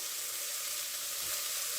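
Steady hiss of curry leaves and potato pieces sizzling in hot oil, a continuous crackling spatter with no voices.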